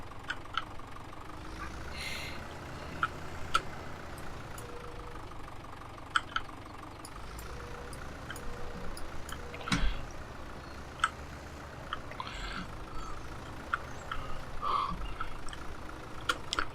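A tractor engine idles and rumbles steadily in the background, with occasional knocks and clanks rising above the drone, moderately near and with no one speaking.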